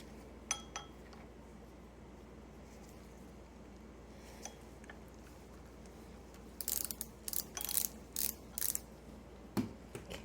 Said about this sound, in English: So the first thing I'm going to take off is this screw here to pull this outer part off.